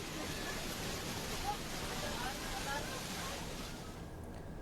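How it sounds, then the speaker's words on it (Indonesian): Heavy rain driven by strong wind over Jakarta's Monas area, a dense, unbroken roaring wash that holds steady throughout and eases slightly at the end. "hujan lebat disertai angin kencang menerjang ibu kota"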